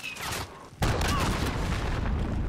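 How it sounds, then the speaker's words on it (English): A cruise missile strike explodes in Call of Duty Modern Warfare: a sudden loud boom lands partway through, then a dense, sustained roar of blast and gunfire rumble that stays loud to the end. "Cruise missile incoming!"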